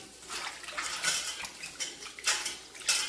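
Aloe vera pieces being washed by hand in water in a bowl, with steady sloshing and splashing rising and falling in close bursts, light clinks of the bowl mixed in, no voices.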